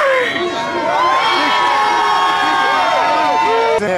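A protest crowd outside Bank of America in Detroit screams and cheers at full volume, a dense sustained roar of many voices with shrill whoops that cuts off abruptly near the end.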